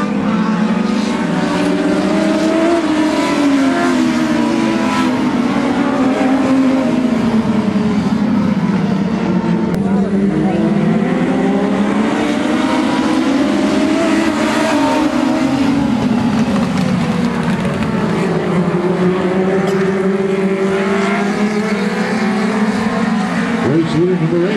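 Dwarf cars race at I-37 Speedway in Texas, a loud, continuous engine roar that surges and falls as the pack passes, with an announcer talking over it throughout.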